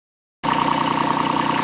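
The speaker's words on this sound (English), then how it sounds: "Now it's just time to get the tractor." A Kubota B7001 tractor engine starts idling after a moment of silence, a steady close chugging drone with an even low pulse.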